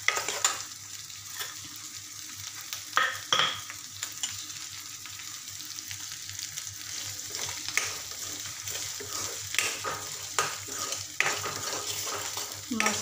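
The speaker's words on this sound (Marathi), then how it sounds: "तर टोमॅटोला पण छान असं मऊ होईपर्यंत आपण शिजवून घेणार आहोत." Chopped tomatoes softening in a hot pan for a spicy moth bean curry, a faint steady sizzle with repeated spoon scrapes and light clinks against the pan, close and unhurried, with no talk.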